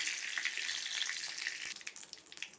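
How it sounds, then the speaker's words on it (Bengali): Bay leaves, cinnamon and cardamom frying in hot oil give a continuous crackling sizzle with scattered pops, fairly soft and steady, without talk. "তেল দিয়ে দুটো তেজপাতা, এই যে একটু দারচিনি, চারটে এলাচ"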